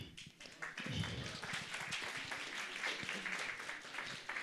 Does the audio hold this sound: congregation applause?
yes